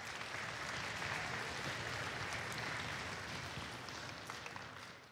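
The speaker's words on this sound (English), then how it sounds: "Let's go ahead and give her a round of applause as well." A school band concert audience gives a round of applause, a dense wash of clapping that holds steady for several seconds and then gradually fades.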